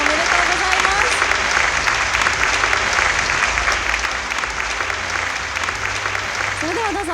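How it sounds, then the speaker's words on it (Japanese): At an advertising awards ceremony, the audience gives sustained, loud applause to the NTT Docomo award winners, with even clapping throughout and a low background hum. "株式会社 NTT ドコモの皆様に今一度大きな拍手をお送りください"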